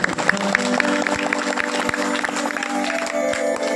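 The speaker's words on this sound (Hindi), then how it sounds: "जोर से ताली बजाइए" An audience at a village gathering for World Tribal Day claps steadily for a few seconds, crisp hand slaps over a murmur of crowd noise and a sustained musical hum underneath.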